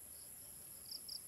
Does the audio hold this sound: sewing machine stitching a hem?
no